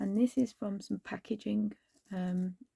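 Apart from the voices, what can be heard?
No everyday noise stands out behind the speech.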